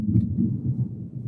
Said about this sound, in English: it started to like thunder and lightning